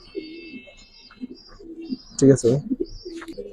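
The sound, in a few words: pigeons cooing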